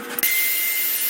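A vacuum cleaner runs at a steady, loud whine with a short bump at the start, used as a tool during a job inside a home.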